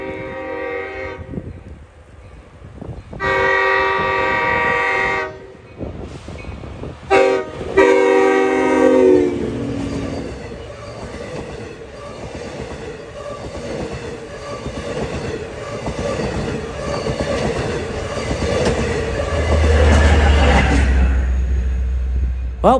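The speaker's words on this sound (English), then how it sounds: "a shot of a train in the snow" A Long Island Rail Road train horn sounds several loud blasts, then a long, heavy rumble of wheels rolling past on the tracks in a snowstorm, building steadily louder toward the end.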